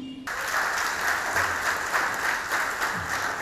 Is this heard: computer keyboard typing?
no